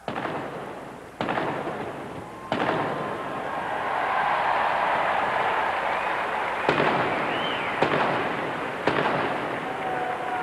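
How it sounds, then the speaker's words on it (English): A field gun crew fires rounds in a timed competition run, producing a series of sharp loud bangs spaced a second or more apart over a continuous background of crowd and outdoor noise. "and 3 rounds to be fired"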